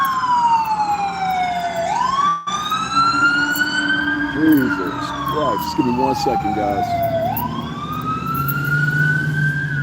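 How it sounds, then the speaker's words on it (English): Three loud fire trucks pass close by, their sirens wailing and sweeping up and down in pitch throughout, with someone speaking briefly over the din. "Got 2 loud fire trucks behind me. 3 loud fire trucks behind me."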